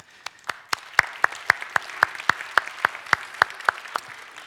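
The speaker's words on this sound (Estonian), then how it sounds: "teeme kõigepealt ühe suure aplausi nende PISA tulemuste peale" Audience at a conference in Pärnu clapping in slow, even unison, about sixteen sharp claps in a steady rhythm, fairly close and moderately loud over a quiet room.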